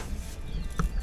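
Chanticleer pullets at a farm supply store give a short, moderately loud cluck near the end, set against steady indoor background noise.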